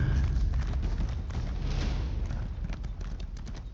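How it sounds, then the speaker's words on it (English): Horse hooves gallop in a steady, rapid patter of thuds inside the Elder Scrolls Online video game, loud and continuous with no talking over them. "My horse is faster than your legs."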